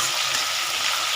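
Onions frying in a pan on a gas stove, a steady broadband sizzle that runs unbroken and fairly loud, with no voices over it.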